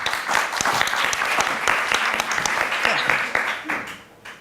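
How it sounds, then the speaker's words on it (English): Audience applause at a digital innovation plenary session in Eindhoven welcoming the deputy mayor, loud, with distinct sharp claps, fading toward the end, with a voice briefly heard through it. "Big applause for it."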